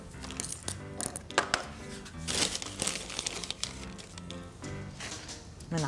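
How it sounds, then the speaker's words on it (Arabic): A plastic bag of garden soil crinkles and rustles continuously as it is handled up close, with loud, busy crackling throughout. "كيس التراب"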